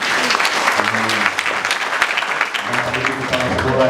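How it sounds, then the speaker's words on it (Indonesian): Audience applause for visiting YPK school principals at an anniversary event held at a Sorong prison, steady dense clapping throughout with voices mixed underneath. "Kita tepuk tangan."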